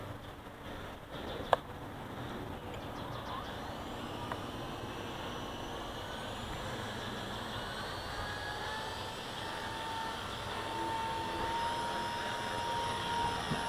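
Blade flybarless RC helicopter flying in basic mode outdoors in the wind, giving a steady, continuous whine and rotor drone that holds at an even level throughout with no talk.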